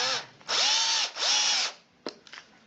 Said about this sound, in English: And so here with my battery powered drill,